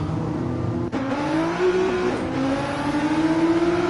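Race cars in a Daytona 500 Cup Series racing video game roar out of pit lane, engines loud and close, with rising revs and a pass-by swell, continuous and without talk.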